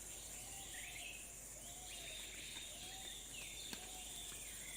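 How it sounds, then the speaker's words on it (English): Jungle ambience with birds chirping at a low level over a dense steady hiss of insects, repeated short descending calls and whistles spread across the recording, with no voices. "Birds chirping in the background."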